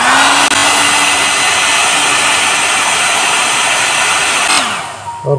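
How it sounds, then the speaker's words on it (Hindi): A hair dryer blows hot air onto the warranty sticker of a clothes iron, giving a loud, steady close-up whoosh that holds for several seconds and then cuts off near the end, with no talking. "तो उसके लिए हमें कुछ ये ब्लोअर लेंगे, हेयर ड्रायर जिसे भी कहते हैं, इस तरह का"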